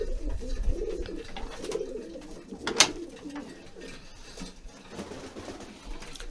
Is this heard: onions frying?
no